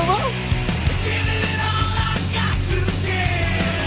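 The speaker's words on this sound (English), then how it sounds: "There was a fucking cyclist man that shouted at me." A man yells angrily on a street, with a passing cyclist shouting, loud and close over a dense, busy bed of traffic and background noise.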